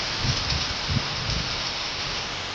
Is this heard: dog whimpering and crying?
no